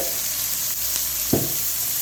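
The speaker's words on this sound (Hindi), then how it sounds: "अच्छे तरीके से मैं इसको गोल्डन ब्राउन करूँगी प्याज़ों को" Onions fry in oil in a karahi with a steady, close, hissing sizzle, and a single short scrape or clink stands out partway through.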